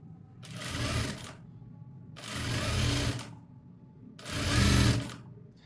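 A sewing machine stitches a cutwork designer blouse in three separate loud bursts of rapid whirring. Each run lasts about a second and a half, with short quiet pauses between them.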